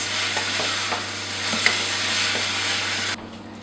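Caramelized pear and nuts sizzle in a pan while being stirred, a steady close frying hiss with light scraping taps, ending abruptly.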